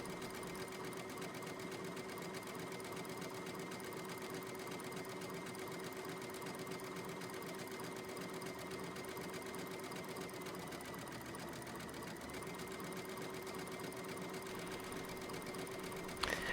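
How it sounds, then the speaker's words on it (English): Sewing machine running steadily to stitch a decorative hem stitch into fabric, a continuous even whir with a fast mechanical pulse, close and constant throughout with no talk. "When you're stitching, the best thing is to let the machine do the guiding of the fabric."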